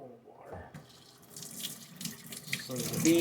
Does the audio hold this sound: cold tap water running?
yes